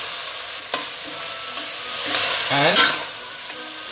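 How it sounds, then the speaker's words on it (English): Bedekar spice blend frying in a pan for masale bhat, a steady close sizzle with scraping stirs and a louder burst of frying midway, no talk over it. "again fry this for about a minute or so"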